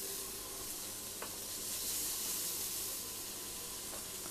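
Vegetables and bacon sizzle and crackle steadily in a hot pan, a continuous frying hiss with an occasional clink of a utensil.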